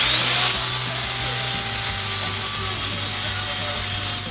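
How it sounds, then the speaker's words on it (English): An angle grinder cleaning up metal on a Honda CB360 motorcycle swing arm, a loud, steady high whine with a droning hum that holds throughout, close by. "We're just going to clean it up with the grinder."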